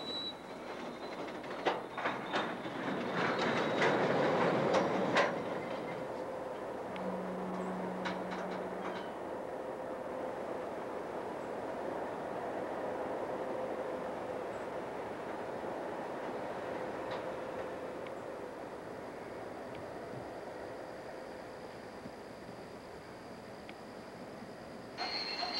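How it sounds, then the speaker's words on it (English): A passenger train on the last run from Bridgewater comes to a halt to flag at Highway 12, with a rising rumble and brief wheel noise early on, then a steady quieter idle with faint clicks afterward. "The train stops to flag highway number 12."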